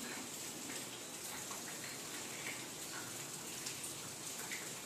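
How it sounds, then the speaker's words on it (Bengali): Steady rain falls outside at midday, a soft, even hiss of drops with faint patters on surfaces, continuing unbroken throughout. "আর এই যে বাইরে তো বৃষ্টি হয়ে যাচ্ছে সমানে"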